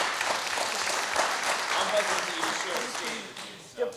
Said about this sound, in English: I'll take all the applause I can.